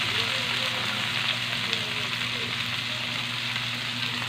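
Bitter gourd sizzles and fries in a pan, a loud steady crackle heard up close and continuing without a break.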